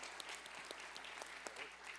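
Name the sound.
audience applause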